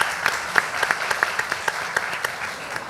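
An audience at a Busan youth forum applauds to welcome a company CEO to the stage, a steady wash of many hands clapping at moderate loudness with no talk over it.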